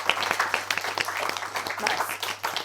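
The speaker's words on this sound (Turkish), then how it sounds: "Oyam arkadan bir alkış sesi alalım lütfen." Applause from a small group, scattered hand claps pattering steadily for a few seconds, fairly close and moderately loud, with a faint steady hum underneath.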